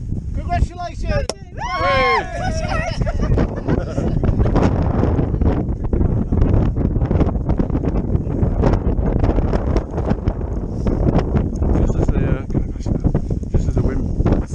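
Strong wind buffets an outdoor microphone, a loud, constant low roar and rumble that never lets up, with brief voices near the start partly buried under it.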